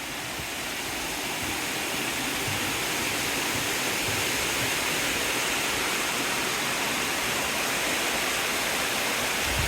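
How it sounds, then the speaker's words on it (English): A river flowing below a hospital in Dawlish, heard as a dense, steady broadband rush of water that stays loud and unbroken from start to finish, with no talking. "going to go along the side of the river below the hospital this time."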